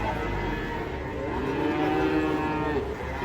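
Cattle that have run amok after coming off a truck give a long, loud, drawn-out moo lasting several seconds, close by and sustained with little other sound around it.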